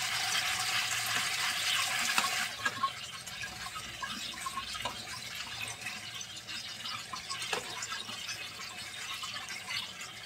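Running tap water pours over mussels being washed in a strainer, a steady hiss of flowing water with occasional splashes and clinks, fairly close and alone.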